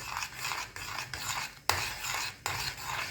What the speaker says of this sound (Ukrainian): Тепер поступово додаємо молоко і перемішуємо тоненькою струйкою, щоб яйця не збуртилось.